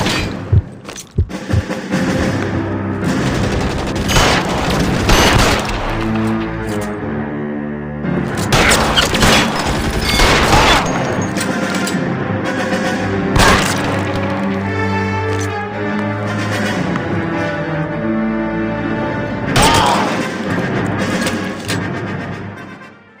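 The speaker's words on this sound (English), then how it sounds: "Shots fired." A gunfight in the video game L.A. Noire, during the Reefer Madness mission. Loud, repeated gunshots and heavy booming thuds come in clustered volleys across the whole stretch, dense and close.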